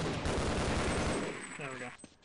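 Rapid bursts of gunfire from Half-Life: Blue Shift, a dense fusillade of shots that fades, followed by a short harmonic tone and a final sharp report near the end.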